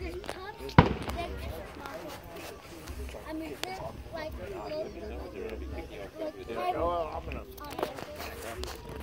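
Fireworks go off at a firework show in Afton, Oklahoma, with one sharp loud bang early on and softer crackles, under steady nearby crowd chatter and talking.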